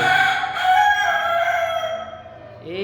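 Roosters kept in a backyard flock crow loudly, one long sustained call filling the moment before it tails off at the end, with no talk.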